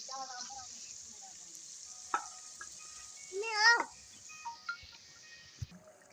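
Meat for biryani fries in a pot with a constant hissing sizzle and occasional stirring knocks, while a melodic chanting voice rises and falls in the background.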